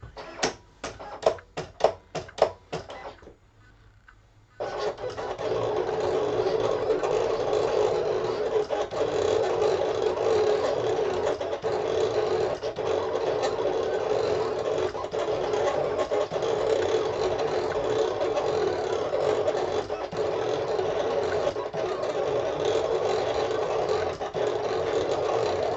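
Silhouette Cameo 4 cutting machine running a heat transfer cut, a steady whirring motor hum that carries on without a break for about twenty seconds, preceded by a few quick taps and a brief pause.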